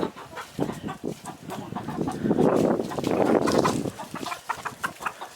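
A flock of hens and a rooster cluck and chatter close by in a busy, overlapping stream of short calls while they dig in the yard, with no voices.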